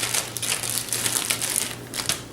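A plastic bag holding pre-rolled pasta dough crinkles and crackles up close in quick, irregular rustling bursts, with no talking.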